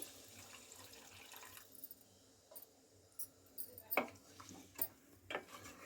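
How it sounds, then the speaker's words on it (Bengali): Water poured into a pan of chicken curry with potatoes, heard as a faint trickling splash with a few light clicks and knocks, fairly quiet overall. "এবার আমি পরিমাণ মতো পানি দিয়ে দিচ্ছি"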